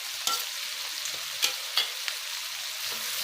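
Cumin seeds sizzle in hot oil as they are stirred for an Assamese-style duck curry, a steady soft frying hiss broken by a few sharp scrapes of the spoon.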